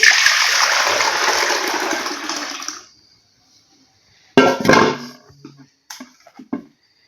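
Banana juice poured from one pot into another for an Atiya banana chewy pie, a loud close gushing splash for about three seconds, then silence and a few short clanks and trickles.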